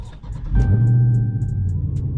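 A Dodge Charger 392 Scat Pack V8 starts with a quick crank, catches, and settles into a deep, steady idle rumble close by. A faint electronic tone hums alongside the engine.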